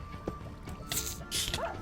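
Small dogs yip and bark in Minecraft, a few short sharp barks in quick succession amid game noise, with some brief whimpering sounds.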